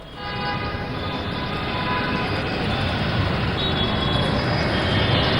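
A metro train passes through a station with a loud, steady rumble of wheels on rail and sustained high tonal squeals, building slightly over several seconds, with no clear talking.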